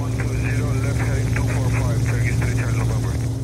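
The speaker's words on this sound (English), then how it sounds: "They're flying in a convoy of 6 planes" Cargo planes flying in a convoy of six, carrying medical donations, give a steady, loud low engine drone that continues unbroken under a talking voice.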